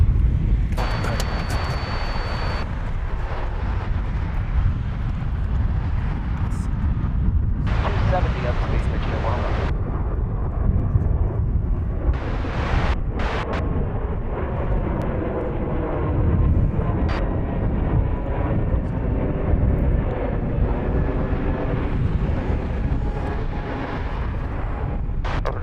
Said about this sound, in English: And we have a Delta taking off at the moment.